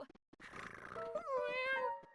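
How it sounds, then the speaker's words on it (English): A cat in the video game Akiba's Beat lets out a clear, rising meow near the end, preceded by faint background sounds. "Yes, it's a cat."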